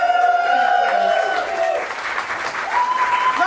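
Poetry slam audience breaks into loud, sustained applause with cheers and whoops for Liz, the door and scoring helper, a dense crowd clapping throughout.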